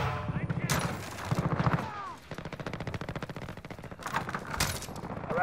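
Shotgun gunfire in the Modern Warfare video game, infection mode: loud, sharp blasts near the start and again near the end, with a dense, rapid rattle of shots in between, all close and under overlapping voices.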